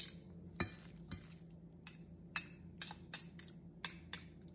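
A spoon knocks and scrapes around a bowl of tuna pasta salad with mayonnaise, giving a run of sharp clinks and taps at an uneven rhythm, close and fairly quiet, with no talking.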